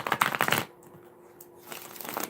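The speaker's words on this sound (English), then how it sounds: "One more shuffle." A quick riffle of tarot cards being shuffled close up, a short crisp burst, then quiet handling noise.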